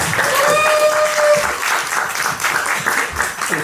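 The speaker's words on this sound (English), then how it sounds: "So small round of applause, please." Applause from a small crowd, steady dense clapping that carries on without pause, with a few faint voices briefly mixed in at the start.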